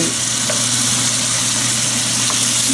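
Pork and mushrooms fry in a hot pan with a steady, loud, close sizzle that holds constant throughout, with no talking.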